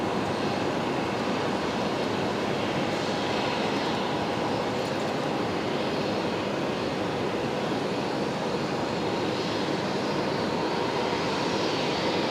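A Qantas A380 taxis at Brisbane Airport, its jet engines giving a loud, continuous broadband roar that holds steady throughout with no talk.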